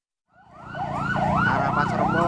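A fire engine siren on a Jakarta toll road at night rises from silence into a loud, close, wailing tone that sweeps up and down repeatedly, with traffic rumbling underneath.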